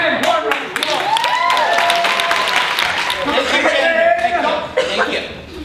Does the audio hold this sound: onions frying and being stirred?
no